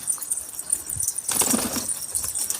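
Pigeons taking off with a sudden burst of flapping wings in the middle, set against faint outdoor background noise and occasional soft chirps.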